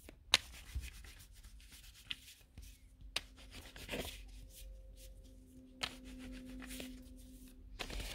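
Fortune-telling cards are shuffled by hand, close but faint, giving soft rubbing and sliding sounds with a few sharper snaps and taps scattered through, and a quiet background hum.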